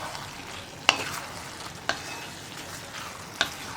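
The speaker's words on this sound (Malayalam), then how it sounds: "വീണ്ടും നന്നായിട്ടൊന്ന് ഇളക്കി മിക്സ് ചെയ്യാം." A spoon stirs tomato curry in a pan, giving three distinct scraping clinks spaced about a second apart over a faint background sizzle, with no talking.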